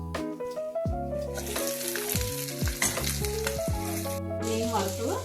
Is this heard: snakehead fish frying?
yes